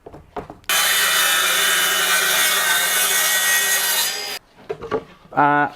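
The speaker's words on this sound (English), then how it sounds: "Here's the cordless budget tool, bit of laminate flooring." A cordless budget track saw cuts through a piece of laminate flooring. It gives a loud, continuous high-pitched whine lasting about three and a half seconds, with brief handling noise around it and a voice at the end.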